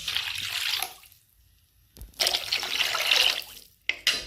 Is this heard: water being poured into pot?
yes